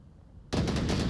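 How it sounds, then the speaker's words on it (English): Sudden burst of sustained automatic gunfire in the VR shooter Onward during a competitive match, starting after a quiet half-second and continuing loud and dense to the end. "More gunfire coming into the OBJ area"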